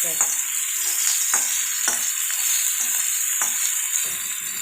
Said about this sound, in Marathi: सारखं फ्राय करत राहावं लागणार आहे कांद्याला